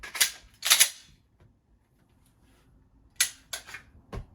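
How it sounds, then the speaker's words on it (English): Glock pistol handled during dry-fire practice: sharp metallic clacks of the slide being ridden home, two close clicks early, then a cluster of three more after a quiet pause, loud and near with no talk. "I'm just gonna ride the slide home so I'm not totally abusing my Glock"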